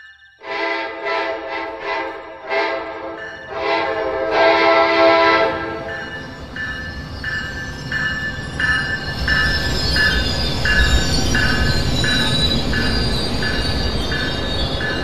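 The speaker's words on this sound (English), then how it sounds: "Northbound train, boarding on 2, Lake Worth is now arriving." Northbound train pulling into Deerfield Beach station in Rail Sim Universe, sounding a series of loud, evenly spaced horn blasts, then a long run of quieter repeated honks over a rising rumble of wheels on rails.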